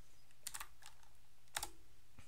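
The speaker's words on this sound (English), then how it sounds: "I'm going to type in Droidify" A few quick clusters of computer keyboard keystrokes, a short burst early on and another later, close and fairly quiet over a low steady hum.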